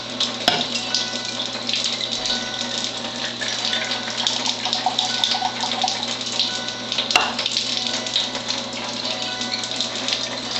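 Acidic water pours steadily from a Tyent MMP11 or Vesta water ionizer, a constant loud rushing stream lasting throughout with two faint clicks.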